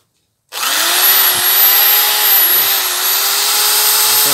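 A Hyundai D-850 Expert electric drill switches on after a brief silence and runs steadily at high speed, loud and close, with a slight wavering whine.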